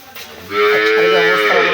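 A cow gives a loud, drawn-out moo up close, a single long low call that swells and holds to the end.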